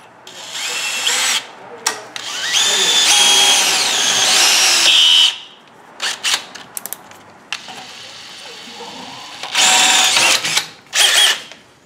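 A power drill whines in long bursts into a Honda CR-V exhaust pipe behind the catalytic converter, rising and falling in pitch, with short pauses and a few brief spurts near the end; loud and close.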